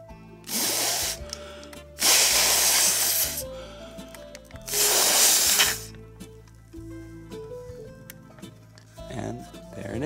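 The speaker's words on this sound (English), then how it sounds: "And now we just blow the model up." Breath blown in three strong bursts into a folded paper origami diamond to inflate it, each puff a loud close airy rush lasting about a second, with soft rustling and quiet pauses between.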